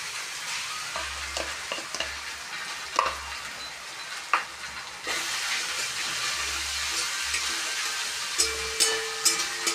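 Pointed gourd (potol) fries in oil in a wok for a prawn dish, a steady bright sizzle with occasional spatula scrapes and clacks, close and loud, with no one talking.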